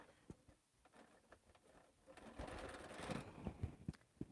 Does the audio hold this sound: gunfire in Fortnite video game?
no